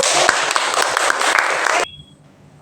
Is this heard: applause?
yes